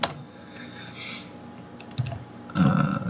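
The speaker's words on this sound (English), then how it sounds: "Now let's do it chmod plus x to make it executable." Keystrokes on a computer keyboard entering a short terminal command, close and fairly quiet, with irregular taps and a denser burst of typing near the end.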